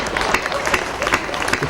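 An audience claps and applauds at a comic Hindi poetry recital (kavi sammelan) in Indore, a dense, continuous patter of many hands that holds steady throughout.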